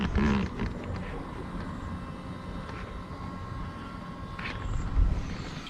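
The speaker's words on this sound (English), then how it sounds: "I can also hear the fuel pump running" A Ford Super Duty diesel's fuel pump runs while priming the fuel system after a fuel filter replacement, a steady faint hum heard close under broad engine-bay and wind-like noise, with a brief louder swell near the end.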